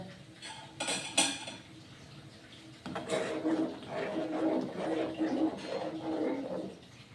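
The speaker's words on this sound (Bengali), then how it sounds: "একবার গুলে দিই চাটা" A metal spoon stirs tea in a pot. A few sharp clinks come first, then a steady run of soft rhythmic scraping strokes against the pot, close by in a quiet room.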